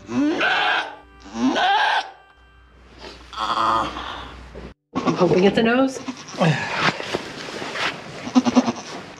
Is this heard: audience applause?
no